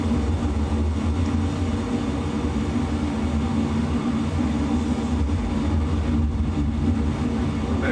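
F-22 Raptor jet engine throttling up in a flight simulator game, a steady loud broadband roar with low rumble that holds without pause for the whole stretch.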